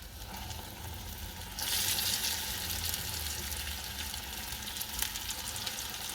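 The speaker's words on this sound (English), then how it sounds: "And now we'll put the next lot on." Irish potato cakes frying in a pan, a steady broadband sizzle that swells louder as a fresh batch goes in, continuing close and even with a small pop near the end.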